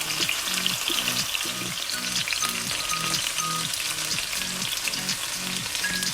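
Onions and peppers frying in a pan with a small splash of liquid added, giving a steady bright sizzle under a rhythmic low thumping pulse that repeats evenly throughout.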